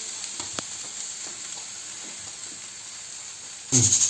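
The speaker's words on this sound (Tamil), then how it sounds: "இப்போ கடைசியாக வந்து நம்ம பயன்படுத்தக்கூடிய தேங்காயையும் இதை சட்டியில் போட்டு நம்ம வதக்கிடலாம்." Grated coconut sautéing in a pan while making traditional mutton gravy, a steady low sizzle that jumps to a loud burst of frying at the end.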